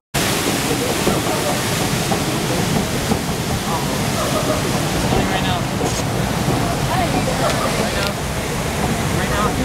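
Water splashes and rushes on an Animal Kingdom ride at Disney World, a steady broadband wash that stays loud from start to finish, with people talking in the background.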